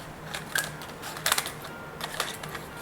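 Scissors cutting down the side of a paper cup for papier-mâché Christmas bell decorations, a few short crisp snips and rustles up close, with no talking.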